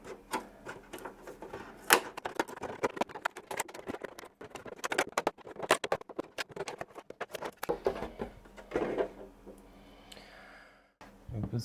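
A model car body being roughly cut out: dense, irregular clicking and snipping that stops and starts, close and moderately loud, with a few breathy vocal sounds and a brief pause near the end.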